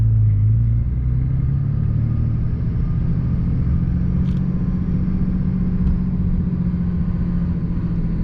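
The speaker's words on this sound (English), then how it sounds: "I can't really get enough of that turbo noise" A Cummins diesel pickup with a six-speed manual cruises along, its engine a steady low drone with a constant turbo whine layered on top, loud and close from inside the cab with no talking.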